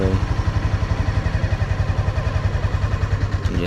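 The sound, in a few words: motorcycle engine while slowly letting out the clutch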